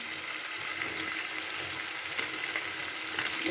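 Black cumin seeds (kalo jeere) are tempered in hot oil for a rui fish curry, giving a continuous, even sizzle and crackle close up with no talk.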